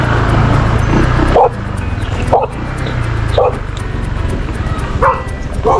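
A dog barks four times at a steady pace, fairly close, with a constant low engine hum running underneath.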